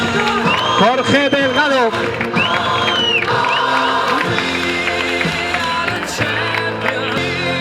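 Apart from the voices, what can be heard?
crowd applause at half marathon trophy ceremony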